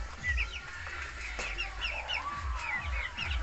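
Young Buff Orpington chicks chirp and peep in a busy flock, their high cheeping calls overlapping steadily and close at hand with a low background rumble.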